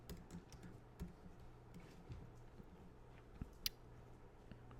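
Computer keyboard typing at a desk, steady soft clicking keystrokes in an irregular rhythm, fairly faint with a low background hum and no talk.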